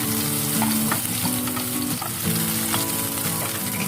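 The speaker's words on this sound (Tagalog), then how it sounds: "stir-fry natin yung luya" Ginger is stir-fried in a pan for duck soup, giving a loud, steady sizzle with scraping stirring sounds throughout.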